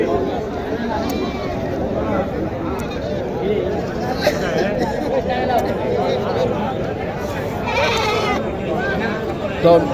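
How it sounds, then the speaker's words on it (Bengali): Goats and kids bleat repeatedly amid a busy midday goat market, with constant crowd chatter and voices of buyers and sellers close by throughout. "বাচ্চা সহ ছাগল দেখানোর চেষ্টা করি"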